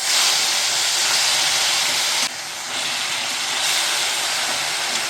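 Pressure-cooked black carrot goes into hot ghee and sizzles in a loud, steady broadband hiss that dips briefly and then surges back.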